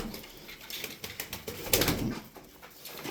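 Pigeons in a loft, with soft cooing and wing flutters close by and a brief louder burst of flapping or scuffling midway, all without any voices.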